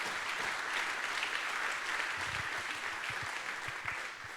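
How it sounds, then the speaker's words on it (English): Audience applause in a presentation hall at the SS14 event, a steady wash of clapping at a moderate distance that continues evenly and tapers slightly at the end. "So give yourself a round of applause for burning the gas."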